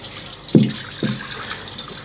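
Running tap water splashes softly during washing in a home kitchen, with two brief louder splashes over a steady faint flow.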